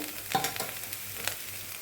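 Vegetables fry in a pan for a vegetarian dish, a soft, fairly faint sizzle with a few quick stirring scrapes, close and without speech.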